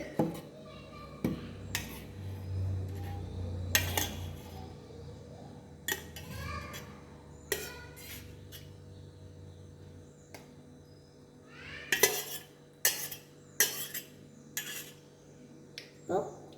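A spoon mixing fruit custard in a bowl, scattered clinks and scrapes against the bowl at uneven intervals, fairly close, with a low hum underneath.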